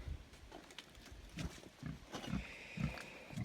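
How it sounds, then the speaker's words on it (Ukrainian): Hungarian Mangalica pigs grunting and snuffling in a low, irregular rhythm, with a faint higher tone running under them in the background. "Це венгерська мангалиця. Такі добре поросята."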